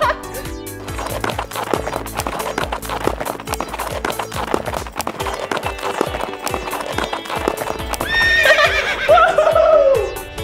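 At a kids theme park, horse hooves clop in a steady galloping rhythm, followed near the end by a loud, close neigh.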